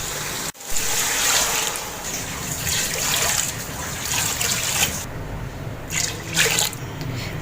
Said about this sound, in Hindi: तो मैं इसमें डालूँगी 4 गिलास पानी।